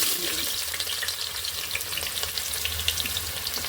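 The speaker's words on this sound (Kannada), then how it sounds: "ಈಗ ಇಲ್ಲಿ ಈರುಳ್ಳಿ ಎಣ್ಣೆಯಲ್ಲಿ ಫ್ರೈ ಆಗಿದೆ." Sliced onion frying in hot oil in a pan for a methi bath, a steady dense sizzle with crackling pops throughout, close and continuous with no talking.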